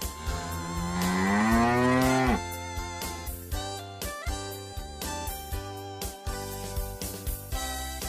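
A cow moos once in a long, rising low call, followed by a bright melodic tune with steady rhythmic notes.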